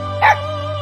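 A dog in the Persona Q: Shadow of the Labyrinth video game lets out a single short, clear bark over a steady low background hum from the game.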